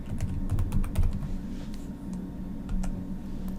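Fast typing on a computer keyboard, a quick stream of close, light key clicks over a low background hum, with no one speaking.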